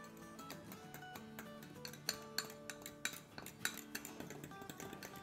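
A metal spoon clinks and scrapes against a bowl while flour and wheat flour are mixed, quiet irregular taps and chimes at close range with no voices.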